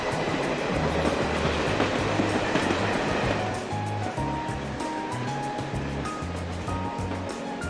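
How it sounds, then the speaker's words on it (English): Video game cutscene in Trails to Azure: a train rumbles along with a rushing, surf-like roar, then settles into rhythmic wheel clatter under gentle background music. No one speaks. "There's a cutscene with the train."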